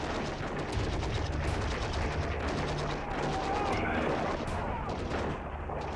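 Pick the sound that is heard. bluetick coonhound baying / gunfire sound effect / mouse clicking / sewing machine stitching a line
gunfire sound effect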